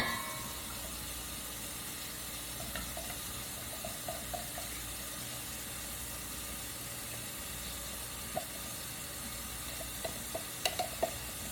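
Tap water runs steadily into a kitchen sink as a bowl that held shrimp dip is rinsed out, a continuous low wash with a few small clinks and splashes near the end.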